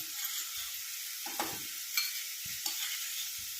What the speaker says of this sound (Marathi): आपल्याला तेलामध्ये थोडीशी मिरची परतून घ्यायची आहे